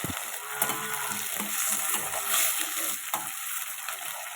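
Onions and tomatoes sauté in groundnut oil, a constant close sizzle broken by scraping stirs of the spatula against the pan at an irregular pace, with no voices.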